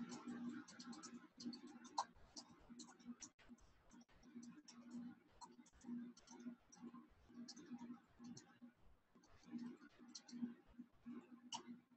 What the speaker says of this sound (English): that's like the best typing I've ever done